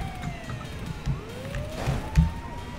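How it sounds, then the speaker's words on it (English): A broken ambulance siren in GTA V warbles and slides oddly in pitch, fairly faint over low engine noise and a few dull thumps. "My siren is like broken, so I just sound like the ambulance of doom."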